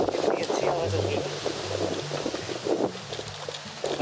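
Steady wind buffets the microphone on top of Gorakhgad hill fort, a continuous rushing roar with low rumbling gusts, heard alone without talk.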